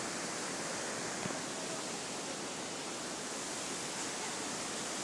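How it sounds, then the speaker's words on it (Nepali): Mountain waterfalls cascade from above, a steady broadband roar of falling water heard at a distance, constant and unbroken with no voices. "पुरा झरनाहरू झरिरहेको छ माथिबाट"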